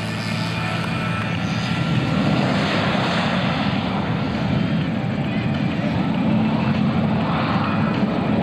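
A Waco jet-powered Mystery Ship makes a slow, low pass in front of a crowd at an airshow, giving a loud, steady engine roar that holds throughout.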